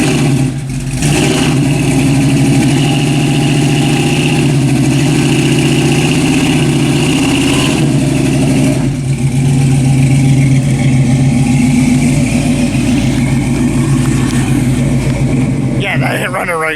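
A modified blue car's engine idles roughly and revs up repeatedly close by, its loud, uneven rumble swelling and dropping with a brief break midway, while people talk over it.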